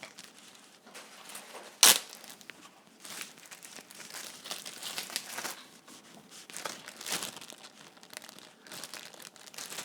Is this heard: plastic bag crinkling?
yes